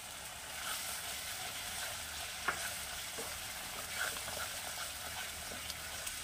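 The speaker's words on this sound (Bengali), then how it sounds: "টক দইটা দিয়ে অনবরত একটু নাড়াতে হয়।" Sour yogurt being stirred into a frying spice masala for Bengali-style shahi aloo dum, a soft continuous sizzle with faint scraping stirs and a few small clicks, quiet and steady, with no talking.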